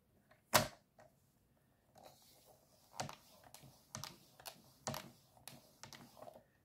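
A paper card is folded and creased by hand: a sharp close snap, then a quiet stretch, followed by a run of soft crinkling presses and rubs spaced a second or so apart.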